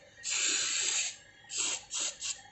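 Anti-corrosion spray is aimed at refrigerator pipes in a long hissing burst and then three shorter hisses from an aerosol can up close, with no talking.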